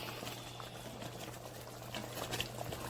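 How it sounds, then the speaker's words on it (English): Fresh cilantro is stirred into a chicken dish simmering on the stove, with a steady soft bubbling and gentle liquid churning that stays fairly quiet and even throughout. "So I add some fresh cilantro. I'm going to stir it in it."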